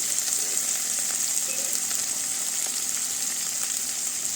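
Dried fish and onion pieces fry in a pan with curry leaves for a Telugu egg and drumstick curry, giving a steady, close broadband sizzle with faint scraping stirs and no talk.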